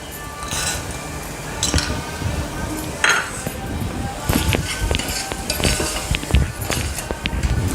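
A spoon scrapes and clinks against a pan while peas masala is stirred, with irregular metallic taps and knocks over a low background rumble.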